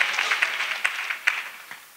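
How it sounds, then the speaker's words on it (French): Church congregation clapping during a testimony service, with rhythmic claps in a moderately loud, reverberant wash and a few sharper accents standing out at regular intervals. "Let's clap for the Lord Jesus Christ."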